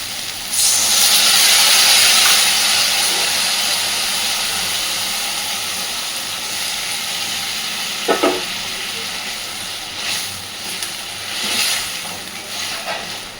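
A little water poured into soybeans frying with sauce and spices, setting off a loud burst of steamy hissing sizzle that slowly fades, with a few clatters of the pan afterward.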